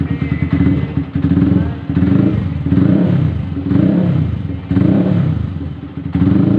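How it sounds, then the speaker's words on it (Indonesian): A Yamaha R15 motorcycle fitted with a 62 mm cylinder block and a leaking exhaust revs repeatedly, its loud, close engine swelling and dropping in about five throttle blips with a rattly, raspy edge. "Coba digas, guys, jajal guys, gas."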